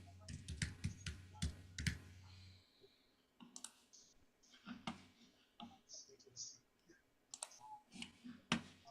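Sharp, quick clicks from a computer mouse and keyboard sound in uneven bursts close by, with faint voices in the background.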